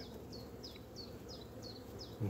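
Honey bees buzz faintly around a nuc hive with a low, continuous hum, while a small bird chirps at a regular rhythm, about six times, somewhere in the background.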